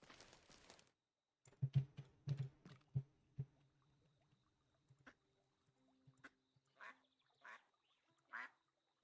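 A few scattered duck quacks from the video game Tiny Glade, fairly quiet, with soft clicks and taps between them in otherwise quiet surroundings.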